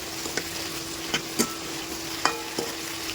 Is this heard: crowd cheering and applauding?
no